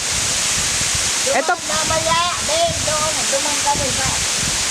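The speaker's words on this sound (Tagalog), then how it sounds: "Yan po ang Hatod Waterfalls." Hatod Waterfalls, the tallest of the Gallego Waterfalls in Goa, Camarines Sur, drops from the mountaintop. It gives a loud, constant rushing roar, and a voice speaks briefly over it.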